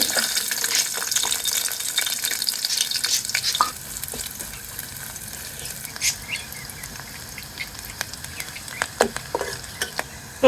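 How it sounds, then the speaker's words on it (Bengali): Onions and green chillies fry in hot oil in a pot, a continuous crackling sizzle dotted with sharp pops and spatters, close and moderately loud throughout with no voices. "এখন আমি পেঁয়াজ কাঁচামরিচগুলো ভাজে নিব"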